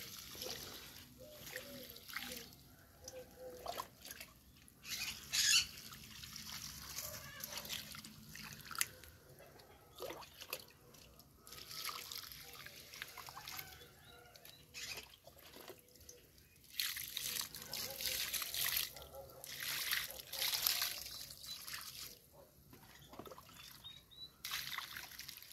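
Plants in a garden being watered from a bucket, with water trickling, dripping and splashing onto soil in a steady, fairly faint stream that swells at times, some distant voices around it.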